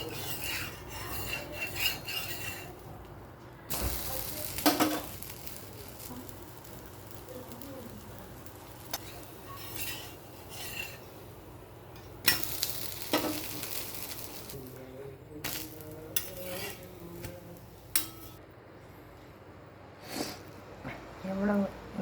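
Sorghum dosa batter sizzling on a hot pan, a steady crackling fry with scraping and stirring noises and sharp clatters from utensils now and then, heard close up with no talk.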